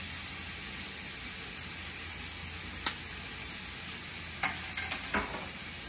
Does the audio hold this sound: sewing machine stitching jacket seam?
no